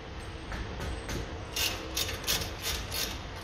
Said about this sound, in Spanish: Y ahora con unas 7 de Allen y la carraca, pues aflojamos los tornillitos de la pinza.